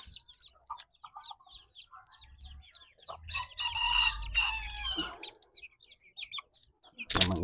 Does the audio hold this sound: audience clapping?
no